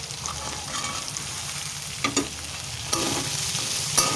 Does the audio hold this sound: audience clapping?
no